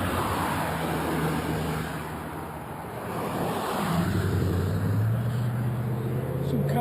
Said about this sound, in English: Oh, another posh car coming uphill.